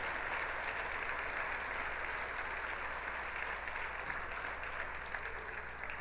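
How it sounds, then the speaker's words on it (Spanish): A church congregation claps together in sustained, even applause, a dense wash of hands that holds steady at moderate loudness from start to finish. "Vamos a darle un aplauso a nuestro Padre esta hermosa mañana"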